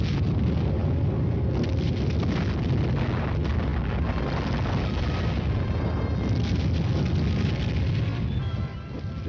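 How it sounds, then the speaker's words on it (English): Supporting artillery lays down a non-atomic barrage in an armored division attack, a dense continuous roar of rumbling blasts and booms that runs without pause, loud and heavy in the low range. "the supporting elements lay down a curtain of non-atomic fire"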